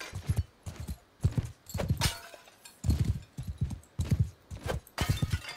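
A horse's hooves clip-clop at a ridden gait in the video game Mount & Blade II: Bannerlord, with fairly close, rhythmic hoofbeats that come in quick clusters across the whole stretch.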